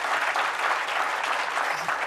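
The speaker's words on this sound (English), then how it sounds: "Let's give them a round of applause." Steady, dense applause from a forum audience at a downtown business event, filling the room with continuous clapping throughout, fairly loud and without any talk over it.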